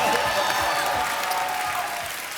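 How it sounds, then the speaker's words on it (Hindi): Audience applause greeting a guest arriving on a comedy show stage, a steady dense clapping that holds at an even level throughout without a break. "जोरदार तालियां हो जाए।"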